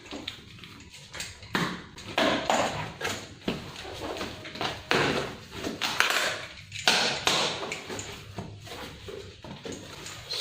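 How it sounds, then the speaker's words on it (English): A rolled cardboard box is torn open slowly by hand, with a close series of crackly rips, scrapes and light taps that come in irregular bursts, and no talking. "So let's tear this open slowly."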